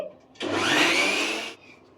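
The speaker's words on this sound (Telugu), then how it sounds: "సో ఇవి మొత్తం మనం ఇప్పుడు మిక్సీ పట్టేసుకోవాలి" A kitchen mixer grinder blends cake batter ingredients in one steady whirring burst of just over a second. It is loud and close, with a high-pitched motor whine, and starts and stops abruptly.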